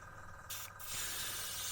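Short bursts of spray paint hiss onto the roof of a Hobby Boss M1070 Oshkosh HETS model truck: two quick puffs, then a steadier, slightly louder spray, all faint and close.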